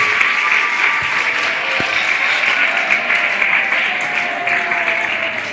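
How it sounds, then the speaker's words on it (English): An audience at a Grade 6 graduation ceremony gives steady, dense applause, loud and continuous from start to finish with no voices over it. "Let's all clap for him."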